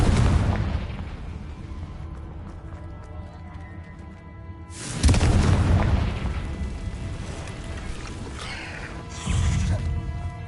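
A Confringo explosion spell in the video game Hogwarts Legacy bursts with heavy booms, two strong blasts over a rumbling, crackling game soundscape, loud and close with no speech.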